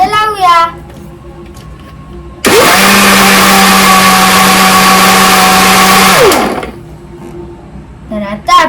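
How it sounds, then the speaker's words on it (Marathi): An electric mixer blends an Oreo milkshake with milk, whirring loudly and steadily for about four seconds before spinning down, with talk heard before and after the run. "आता परत आपण त्याला मिक्सर मध्ये लावूया"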